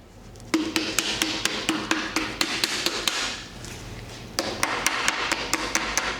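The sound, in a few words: tapping on the side of a piston to seat it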